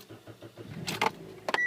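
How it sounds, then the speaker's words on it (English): A car engine powered by a 12V capacitor boost pack in place of its battery cranks with a few quick rhythmic turns, then catches and fires up, faint and close, with no talk. "Okay, car starts right up"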